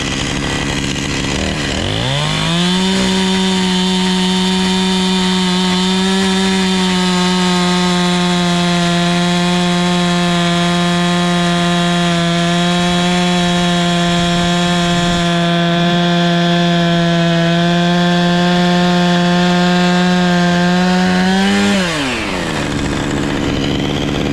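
A chainsaw revs up, holds a loud, steady, close engine whine for around twenty seconds, then winds back down, with no voices over it.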